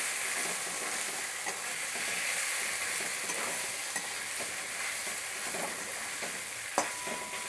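Potatoes and spices fry in a pan while being stirred, making a steady, fairly quiet sizzle with faint scraping, close by and without talk.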